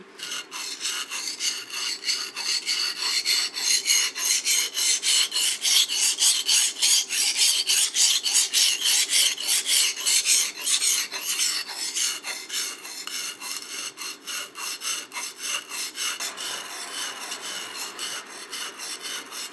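Sashimi knife blade stroked back and forth on a whetstone, a steady rhythmic rasping scrape repeated many times, close and loud throughout with no talk.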